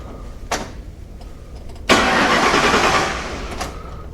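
A 1957 Ford Ranch Wagon's engine is cranked over by the starter in one sustained, loud burst of churning turnover after a couple of short clicks, then the cranking fades without the engine catching.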